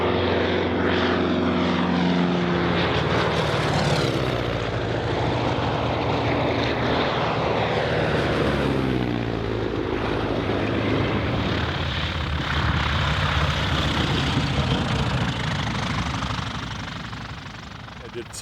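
A Curtiss Wright CW-19R aircraft's engine runs loud and close during a propeller test, a continuous throbbing drone with pitch shifting as the propeller spins, holding steady before easing off near the end.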